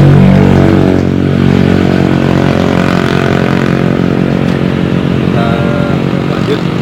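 A motorcycle engine working at the traditional oil wells of Wonocolo, Indonesia, runs steadily nearby, a loud continuous buzzing drone with a slight rattle and no clear changes in pitch.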